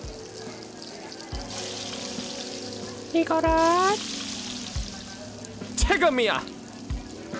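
Steady frying sizzle from a cooking video game runs beneath the whole stretch, with brief sharp effects and a voice speaking over it.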